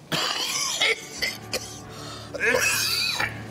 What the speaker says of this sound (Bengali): তুমি তো খুব বাজে কাশি বাঁধিয়েছো